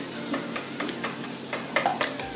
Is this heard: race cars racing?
no